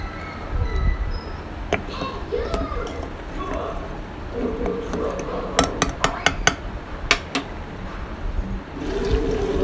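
Ghee being stirred continuously in a pan during home ghee-making, with a spoon clinking and scraping against the metal in irregular taps over a soft sizzle, and someone talking throughout.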